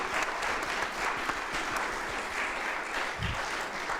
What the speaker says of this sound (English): please, round of applause for our brilliant panel